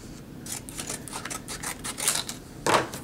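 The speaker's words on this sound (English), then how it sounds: "Grab my scissors." Scissors snip through the wrapper of a hockey trading card pack, giving a few quick, crisp clicks and cuts close up over about three seconds.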